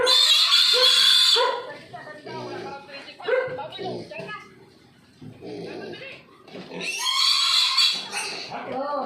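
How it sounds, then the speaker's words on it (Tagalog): Piglets squeal loudly in high-pitched bursts while being injected with vitamins, with people talking between the shrieks. "Kita mo yung malalaki ng baboy na tinuturukan na."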